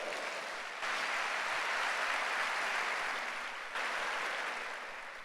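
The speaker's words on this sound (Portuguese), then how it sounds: "Dá um aplauso aí a Jesus." A church congregation applauds in a sustained burst of many hands, a broad steady clatter that swells after a brief softer opening and dips momentarily near the end.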